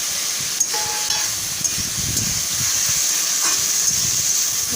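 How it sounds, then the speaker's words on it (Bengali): Ripe mango pieces stirred in a cooking pan over heat, with a steady hiss of sizzling and a few soft scraping strokes of the spoon, close and moderately loud with no talking. "এবার আমটাকে দিয়ে দেবো। আমটাকে দিয়ে একটু নাড়িয়ে"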